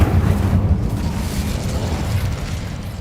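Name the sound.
Incendio fire spell, from video game Hogwarts Legacy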